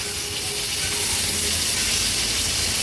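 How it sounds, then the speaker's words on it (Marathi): Stuffed bombil (Bombay duck) fish fry in a pan of hot oil, giving off a steady, dense sizzle and hiss that lasts throughout, close and loud, with no talking. "हे बघा मागच्या साईडनी पण अगदी व्यवस्थित हे बोंबील आपले तळून झाले आहेत"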